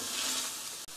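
Chopped onion and garlic stir-fry in a hot pan for an eggplant rice bowl, giving a steady, close sizzle with a faint scrape of stirring and a brief dip near the end.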